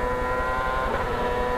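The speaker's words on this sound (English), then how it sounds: "let's listen to the engine now." A CART Champ Car engine at full throttle at Nazareth Speedway in 2001, a steady high-pitched, loud onboard drone with no lift, and no voices over it.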